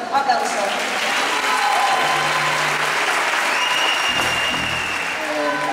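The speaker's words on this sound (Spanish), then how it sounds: "Un fortísimo aplauso." A crowd applauds at a benefit festival concert, a loud sustained wash of clapping that holds steady and eases slightly near the end, with faint voices mixed in.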